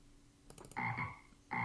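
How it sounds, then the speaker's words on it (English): A frog croak sound effect: a quick rattling burst, then two deep throaty croaks, one of them repeated after a short pause. Close, clear and isolated, with no voices. "I can put in a frog sound effect if that's gonna help."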